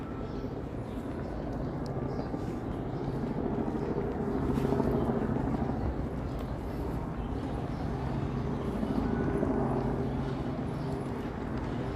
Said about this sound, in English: not sure what those helicopters are doing